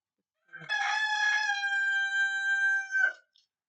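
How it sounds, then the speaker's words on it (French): A rooster at a window crows once, loud and close, a long sustained cock-a-doodle-doo of about two and a half seconds in otherwise silent surroundings. "Ça, c'est mon coq. Je sais pas si vous l'avez entendu."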